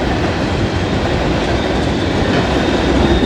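A train of loaded coal cars rolls past close by, a steady, loud rumble of wheels on rails with faint clicking throughout, no pauses and no voices.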